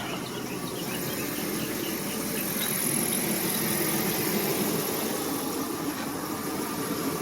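A car engine with a head gasket leak idles steadily, a smooth continuous rumble that holds at an even level throughout, with no voices.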